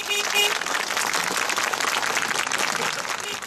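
Relatives and company staff applaud outside the courthouse as Hacı and Memduh Boydak are led to prison in Kayseri, a dense and sustained burst of clapping close by, with brief tonal sounds at the start and end.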